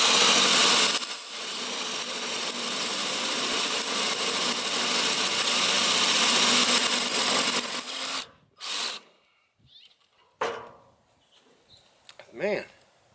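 A cordless drill on a Biswaye 5.0Ah 20V lithium battery for Black & Decker 20V Max tools whirs steadily and loudly for several seconds, then stops, followed by a few short bursts and scattered clicks.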